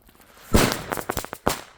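A sharp firecracker bang bursts out at New Year's Eve, followed by scattered crackling pops and a second loud crack, fairly close.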